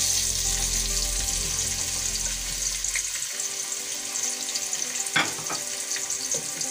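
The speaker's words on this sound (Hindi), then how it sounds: "घी गर्म हो चुका है, हम इसमें प्याज डालेंगे।" Onions sizzle and fry in a pan of hot ghee, a steady close crackle with brief stirring and scraping, while water runs briefly in the background.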